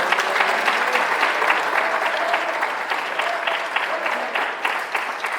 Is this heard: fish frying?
no